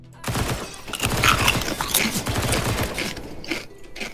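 Quick bursts of MP9 submachine gun fire in Counter-Strike come in dense, rattling volleys with mechanical clatter, loud and close, along with some background game noise.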